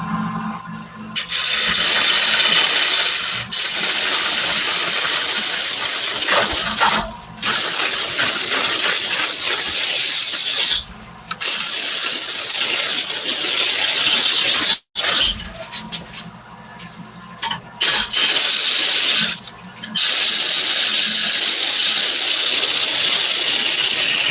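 A wood lathe turns a wooden bowl at the Empire State Maker Faire as a tool cuts the spinning wood, giving a loud, hissing, scraping roar in long sustained passes broken by several short pauses.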